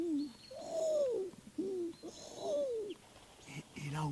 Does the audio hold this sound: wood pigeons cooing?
yes